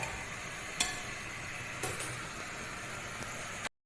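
A pot of curry bubbles and sizzles softly on the stove, with a few faint clicks, then goes silent.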